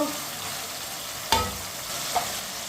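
Tomatoes and green chilies cook in a pan with a steady, close sizzle. Two sharp utensil clinks against the pan break through it, with no voices.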